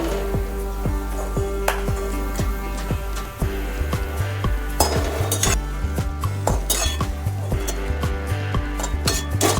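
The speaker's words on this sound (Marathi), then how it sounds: "ड्रायफ्रूट्स आपल्याला जास्त परतायचे नाही आहेत, तो हलकेसेच परतून घ्यायचे आहेत" Dry fruits being lightly roasted in a pan and stirred quickly with a metal spoon, producing rapid, loud clinks and scrapes in a busy, uneven rhythm over a faint sizzle, with no talking.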